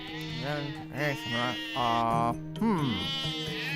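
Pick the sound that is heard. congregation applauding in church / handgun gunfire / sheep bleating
sheep bleating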